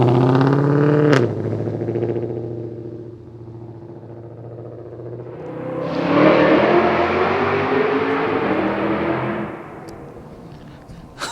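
A poorly running car engine revs hard, rising into a loud roaring burst that holds for several seconds before dropping back to a low idle.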